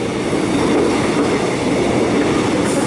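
Metro Trains X'Trapolis service to Lilydale passing at Hawthorn station in Melbourne: a loud, close, steady rumble of wheels and carriages rolling by, with no talking.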